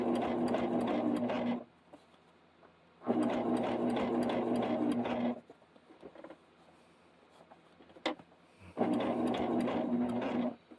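Janome Jazz computerized sewing machine straight-stitching an appliqué wing, three loud, steady whirring bursts of rapid needle rattle separated by short pauses with faint handling noises.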